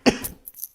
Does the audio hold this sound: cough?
yes